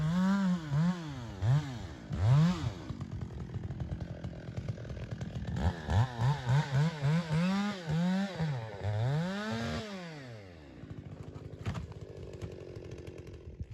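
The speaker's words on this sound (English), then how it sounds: "the first big old poplar that was downed, and Toby took care of that in a heartbeat with the chainsaw." A chainsaw revs up and down in repeated bursts, engine pitch rising and falling as it bites into a big downed poplar, then idles before a brief final rev.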